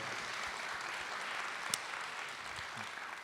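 Scattered audience applause at a public discussion about farmers and local shops, an even patter of clapping from a small crowd, soft and somewhat distant, with one sharper clap standing out midway and no talk.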